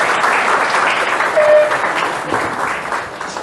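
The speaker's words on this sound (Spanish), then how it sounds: "recibamos con fuertes aplausos al ingeniero Daniel Calagua" Sustained, dense audience applause fills a lecture hall as an engineer is welcomed to speak at a soil degradation session, steady and loud throughout with a slight swell midway.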